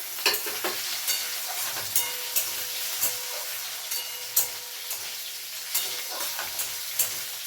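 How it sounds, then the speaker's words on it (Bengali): Potato and bori frying together in a pan make a low, steady sizzle broken by regular light clicks and scrapes of a spatula stirring, heard up close. "এবারે দিয়ে দেবো আমি আলু আমি বড়িটা ভেজে নিয়ে যাচ্ছি আলুটা দিয়ে"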